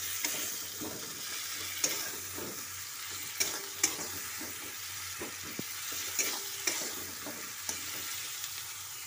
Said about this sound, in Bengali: পেঁয়াজ একটু ভালো করে লাল লাল করে ভেজে নেব।